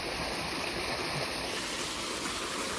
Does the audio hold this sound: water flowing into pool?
yes